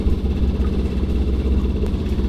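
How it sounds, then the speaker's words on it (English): A boat engine runs at steady, fairly high revs during a stern turn on a river, a loud continuous low drone with no talk over it. "I need quite a few revs to get this turn on the river on a stern with this boat"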